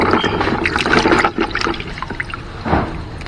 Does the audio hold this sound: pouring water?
yes